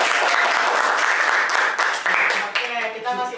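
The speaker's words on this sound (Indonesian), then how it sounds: "mana nih tepuk tangannya?" Audience at a school student council election talk show applauding loudly and steadily, dense close clapping with a voice beginning to speak as it fades near the end.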